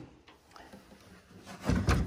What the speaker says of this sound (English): let's look in the next drawer.